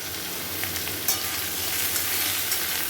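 Spices with turmeric frying and being stirred for a cauliflower and catla fish curry: a continuous loud sizzle with a few light clicks of the spoon.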